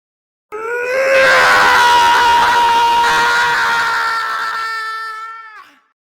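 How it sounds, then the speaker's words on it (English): A long, loud agonized scream from a man in the video game Virtue's Last Reward, rising sharply, holding for about five seconds, then trailing off and cutting out. "A scream clawed its way out of my body, taking my mind with it."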